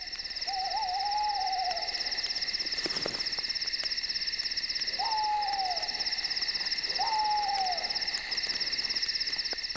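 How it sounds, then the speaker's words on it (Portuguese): An owl hoots three times at night in the Sonoran Desert, each call a short wavering note, over a steady, loud chorus of crickets and insects. "Acrescente o pio de uma coruja para um toque fantasmagórico."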